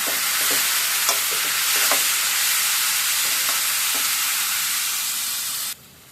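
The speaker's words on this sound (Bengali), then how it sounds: "হলুদটা দিয়ে দিলাম এবার আবার একটু নেড়ে ফেলে মিশিয়ে দিচ্ছি" Turmeric being stirred into a dish frying in a pan, with a loud, continuous close sizzle and a few faint spoon scrapes, alone, until the sizzling cuts off abruptly near the end.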